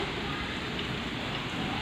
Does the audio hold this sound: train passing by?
no